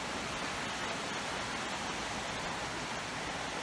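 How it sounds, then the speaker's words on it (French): Small waterfalls at Sillans-la-Cascade in a forest setting pour with a steady, unbroken rushing hiss that stays even throughout, with no voices. "où on peut s'approcher des petites cascades comme ça là"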